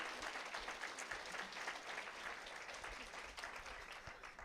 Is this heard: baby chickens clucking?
no